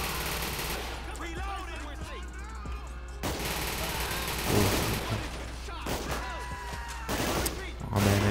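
SMG fire rattles through a GTA 5 heist at Humane Labs, several loud rapid bursts and scattered volleys under chaotic gameplay noise, with a player talking in between.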